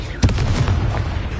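A Bombarda spell blast in Hogwarts Legacy: a sharp booming explosion with a rumbling low tail and a few follow-up thuds, loud and close.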